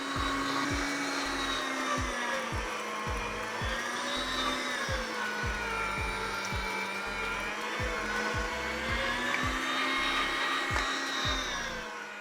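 An electric meat grinder on its coarse setting grinds chuck steak: a loud, steady droning motor with a regular ticking pulse running the whole time, no voices.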